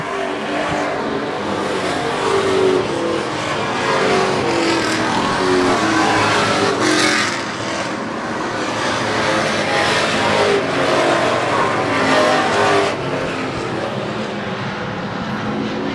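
Super Street race cars circle a short oval track in a continuous loud engine roar, with surging and fading waves as the pack passes during the final laps.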